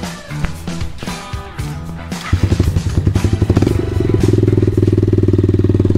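A KRY 150 motorcycle fitted with an Akrapovic exhaust starts with a few clattering cranks, catches and settles into a loud, close, steady idle with an even rapid exhaust pulse.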